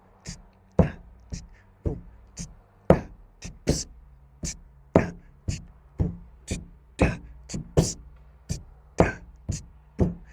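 Drum kit playing a funky hi-hat groove, open hi-hats struck with the right hand alongside kick and snare, crisp and sharply rhythmic, close and alone.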